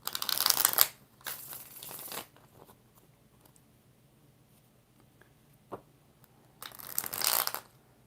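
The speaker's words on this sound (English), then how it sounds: "3 more shuffles." Tarot cards being shuffled in close bursts: a riffling crackle at the start, another around the second mark and a final flurry near the end, with quiet pauses and a soft tap between.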